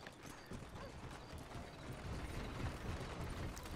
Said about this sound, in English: And there's a horse out here.